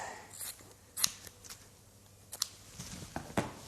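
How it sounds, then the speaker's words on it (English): Scissors snip athletic tape during shoulder taping, with a few crisp, close cuts spaced irregularly over quiet room tone. "Scissors will be needed to cut."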